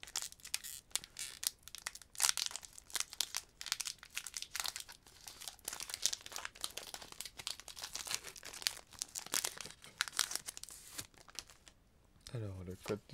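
Crinkly plastic wrapper of a Pokémon Evolutions booster pack, Sylveon artwork edition, crumpled and torn open in a long run of sharp crackles up close, with a voice talking over it.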